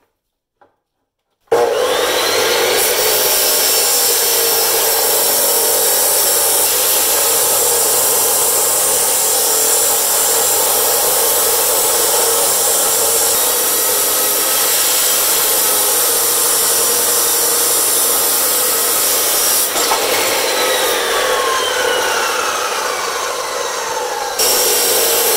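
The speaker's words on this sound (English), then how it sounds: "Using the abrasive blade, you can cut the hard drive in half in no time." An abrasive-blade chop saw cuts a hard drive in half, giving one loud, continuous high grinding whine that starts abruptly and holds steady for over twenty seconds before trailing off.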